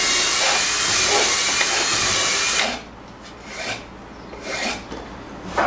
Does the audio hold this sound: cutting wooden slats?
yes